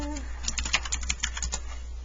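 Quick, light keystrokes on a computer keyboard in a classroom setting, a brisk irregular patter of close taps, with a short voice fragment just before.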